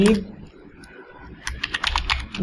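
Typing on a computer keyboard, a cluster of quick close key clicks in the second half after a quiet stretch, with a brief voice at the very start.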